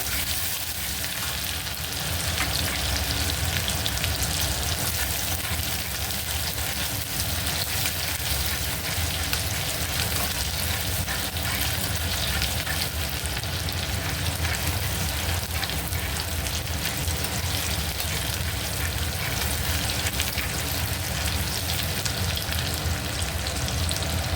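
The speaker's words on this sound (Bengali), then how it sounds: "পেঁয়াজ রসুন আর কাঁচা লঙ্কা একটু কুচি করে নিয়েছি এটা অল্প একটু ভেজে নেবো" Chopped onion, garlic and green chilli fry in a pan for brinjal bharta, giving a loud, dense, unbroken sizzle like heavy rain that runs steadily the whole time with no talk.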